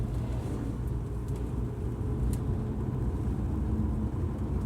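A Subaru Outback on a short test drive after new front wheel bearings, struts and steering knuckles were fitted, with a steady, fairly loud low road and engine rumble throughout.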